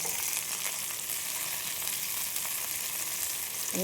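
Prawns frying on low heat, for chilli prawns: a steady, even sizzle of hot oil runs throughout with no talk, close and constant.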